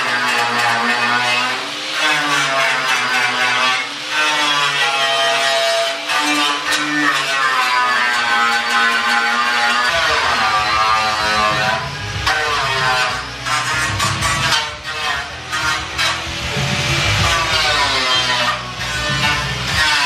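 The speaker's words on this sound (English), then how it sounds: "So I'm going to get that all off with this stripper disc." An angle grinder fitted with a stripper disc eats paint off a steel car panel during rust repair, giving a loud, continuous whine whose pitch sags and recovers as the disc bites into the metal.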